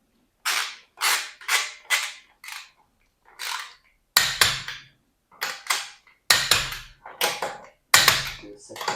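A torque wrench clicks repeatedly while lug nuts on a 2019 Acura ILX wheel are tightened in a star pattern, giving a series of sharp, close ratcheting bursts with brief pauses between them.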